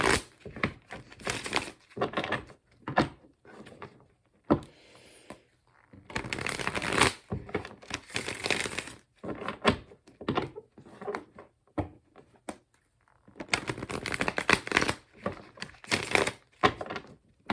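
Tarot cards are shuffled by hand in repeated bursts of crisp riffling and flapping, close and clear, separated by short quiet pauses and occasional soft thumps of the deck.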